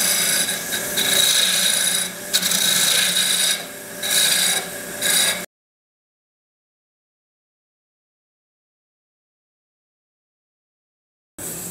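A lathe turns a long wooden goblet stem with a raspy, scraping cut in repeated bursts for about five seconds, then stops into silence before a brief return.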